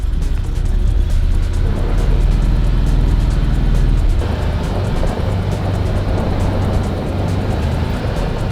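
A 1986 BMW E30 engine runs loud and steady from inside the car as it pulls away, a constant deep drone with a slight shift in tone partway through and no talk.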